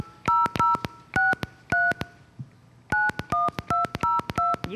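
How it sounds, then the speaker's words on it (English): A telephone number is keyed in as a quick series of sharp DTMF tones, a few fast presses, a short pause, then a longer run of evenly spaced beeps, loud and clear with no talking. "Please enter the telephone number you wish to dial now."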